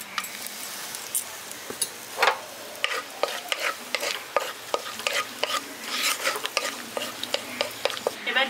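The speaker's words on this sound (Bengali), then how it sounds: "এবার এর মধ্যে আমি ফোড়ন দিয়ে দিচ্ছি গোটা গরম মশলার" Whole garam masala and a pinch of asafoetida hit hot oil, crackling and popping in sharp irregular bursts over a soft continuous sizzle, close and fairly loud.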